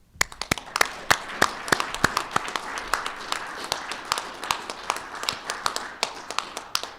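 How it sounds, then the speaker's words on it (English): An awards-ceremony audience claps steadily for several seconds, a dense run of hand claps with sharper individual slaps standing out, nearby and fairly loud. "will you all please join me in a final round of applause?"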